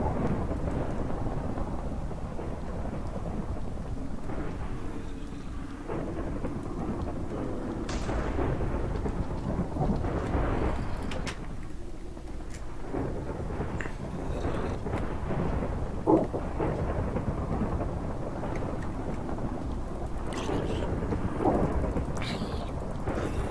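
Minecraft thunderstorm with rain: a steady hiss of rainfall under repeated low thunder rumbles and sharper cracks, moderately loud and continuous, with no voices.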